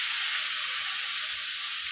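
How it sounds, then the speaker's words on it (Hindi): Dried surmai fish pieces frying in hot oil, a steady bright sizzling hiss that runs unbroken and fairly quiet throughout, with no voices. "अब इसको जरा फ्राई करके निकालेंगे"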